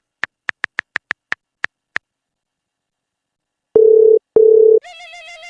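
A phone call goes out: a quick run of eight short dialing ticks, then two long, loud ringback tones with a brief gap between them, followed by a softer melodic ringtone pattern.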